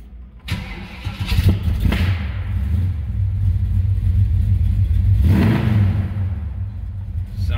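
A 1972 Chevrolet Camaro with a 454 V8 cranks and fires up with the hood open, then settles into a loud, deep rumbling idle with a couple of blips of revving, close by and steady.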